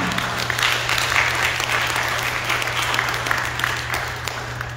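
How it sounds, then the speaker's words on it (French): A church congregation applauds in honour of Our Lady of Fatima during a Creole-language Mass for Our Lady of Mount Carmel, a dense, sustained roomful of clapping with a low steady hum beneath. "Applaudissez Notre-Dame de Fatima."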